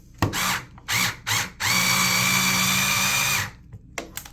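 An electric screwdriver drives screws while a countdown timer switch is installed, whirring in two short bursts, then a third, followed by one long steady run of about two seconds before stopping, close and loud.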